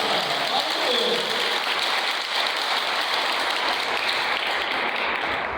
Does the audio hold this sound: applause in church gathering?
yes